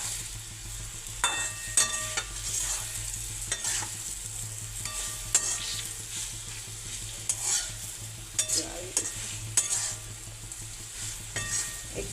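Leftover roti roasting in a pan with asafoetida and salt, giving a steady low sizzle broken by intermittent scraping stirs and clinks of a spatula, close by with no voices.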